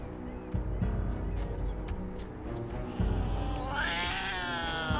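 A cat meowing and yowling from a television episode, with several drawn-out, strained cries over background sound, the last one rising and wavering near the end.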